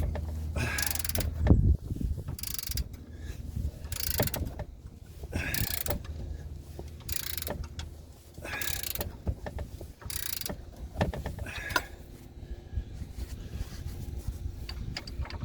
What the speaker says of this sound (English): ratchet spanner on here. And hopefully I can ratchet it off.